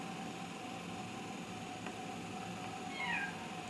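A cat gives a single short meow near the end, faint against a quiet background hum.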